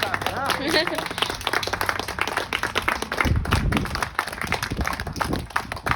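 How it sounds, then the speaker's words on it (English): Audience clapping at a primary-election victory celebration, a dense run of handclaps mixed with cheering and voices throughout, with people talking over it in a lively room. "everyone clapping"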